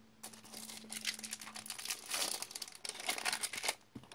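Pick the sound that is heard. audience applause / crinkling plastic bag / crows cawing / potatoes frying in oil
crinkling plastic bag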